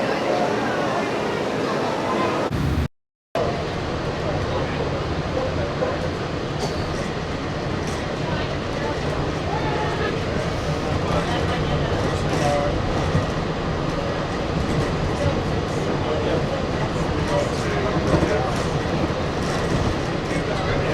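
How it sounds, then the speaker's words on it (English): A Disney monorail train runs past at a theme park as people leave for the evening, its steady rolling rumble and track clatter filling the scene for about twenty seconds, with voices mixed in. "There goes the train going backwards."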